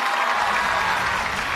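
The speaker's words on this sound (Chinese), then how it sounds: "掌声送给四位。" Studio audience applause at a televised Chinese awards gala, a dense steady wash of clapping hands that holds at full volume without a break.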